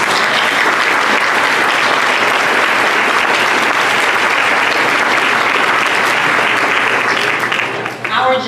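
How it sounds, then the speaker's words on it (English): At a city State of the City event, an audience gives the middle school jazz band a sustained, loud round of applause. The dense clapping continues steadily and fades slightly near the end. "Let's give them another round of applause."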